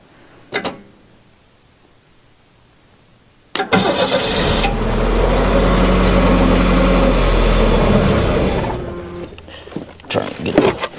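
A 1989 Winnebago LeSharo RV, long abandoned, gives a brief click, then its engine cranks and catches into a loud, rough, steady idle lasting several seconds before it dies down, followed by a few clunks nearby.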